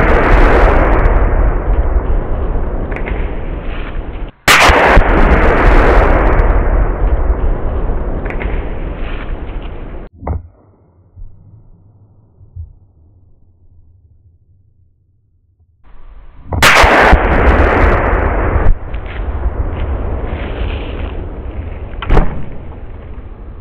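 Rifle shots from a .22-250 and a .22 Creedmoor Ackley Improved ring out outdoors as two sharp, loud cracks several seconds apart, under heavy roaring wind noise that drops away for a few quiet seconds between them.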